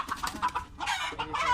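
Chickens cluck in a series of short, close calls at a poultry farm, with overlapping hen voices and a busy, dense flock sound throughout.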